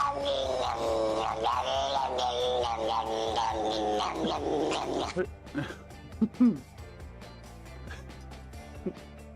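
A cat gives a loud, drawn-out, wavering yowl for about five seconds, then falls quiet except for a few scattered clicks and soft bumps.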